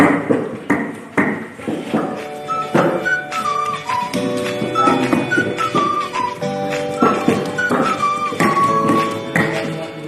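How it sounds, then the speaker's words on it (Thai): Repeated hard thuds of peeled garlic being pounded fine in a mortar in an uneven rhythm, with a whistled melody playing over the pounding. "กระเทียมครึ่งกิโลนะคะนำมาปอกเปลือกแล้วก็โขลกให้ละเอียดค่ะ"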